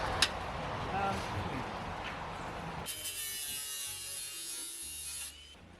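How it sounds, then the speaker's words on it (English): An angle grinder and a flap disc work the steel rear corner body panel of a VW Bus under repair. The grinding whirr is steady and loud, then shifts to a harsher, brighter sanding hiss that runs until near the end. "a lot of test fitting, grinding, flapping, more test fitting, more flapping"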